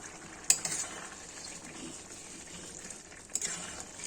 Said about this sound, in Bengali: ঢাকনাটা তুলে দেখছি